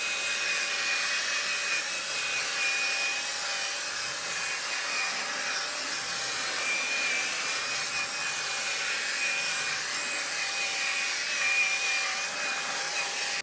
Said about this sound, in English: Hit it with my drill brush.